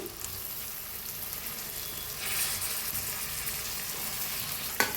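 Steady sizzling and crackling of eggplant frying in hot tempering oil, continuous and close, with a brief louder crackle near the end.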